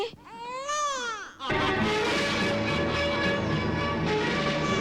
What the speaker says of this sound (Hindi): बच्चे के रोने की आवाज सुन रहे हैं आप?